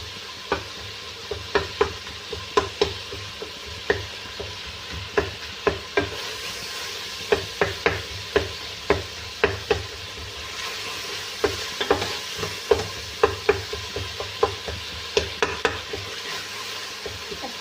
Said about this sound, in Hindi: अपनी चम्मच की मदद से आप लोगों ने साथ साथ टमाटरों को मैश करते रहना।